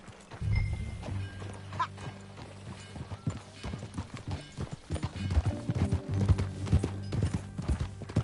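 Horse hooves clip-clopping at a walk, clear and fairly close, with uneven rhythmic thuds that grow busier toward the end over a low background hum.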